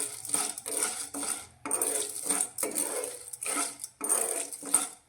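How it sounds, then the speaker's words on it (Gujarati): Corn kernels are added to hot oil in a pan over a medium gas flame while making popcorn, giving close, rattling metallic clatters in several short bursts separated by brief pauses. "મીડિયમ ગેસની ફ્લેમ પર મકાઈના દાણાને આપણે તેલમાં કરીશું"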